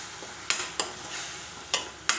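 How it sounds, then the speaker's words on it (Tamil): Onion and tomato paste sautéing for a crab gravy, a steady quiet hiss broken by four sharp scrapes of a spoon against the pan. "இது நல்லா வதங்கட்டும்."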